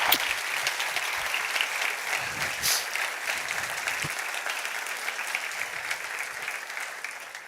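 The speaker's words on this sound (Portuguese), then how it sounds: "Vamos aplaudir Jesus, queridos?" A church congregation applauds in a sustained, even burst of clapping that fills the room and tapers slightly toward the end, with no talking over it.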